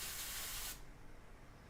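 An airbrush sprays paint onto an anatomy painting of a human back in a short steady hiss lasting under a second, then cuts off, leaving a faint low room noise.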